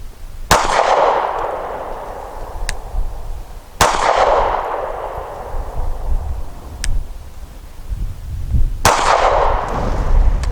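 Sig P365 compact pistol firing 135 grain rounds outdoors: three sharp, loud single shots spaced a few seconds apart, each with a decaying echo, plus fainter metallic clinks between them.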